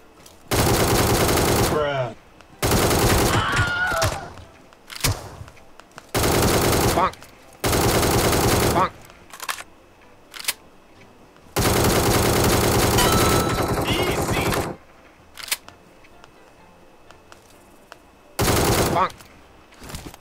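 Automatic gunfire in the mobile game PUBG Mobile, loud close bursts of rapid shots lasting one to three seconds each, separated by quiet gaps, with a few single shots in between.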